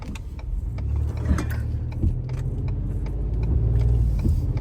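Car driving with a mother taking her sons to school: a steady low engine and road rumble fills the whole stretch, with faint interior creaks and rattles, no talk.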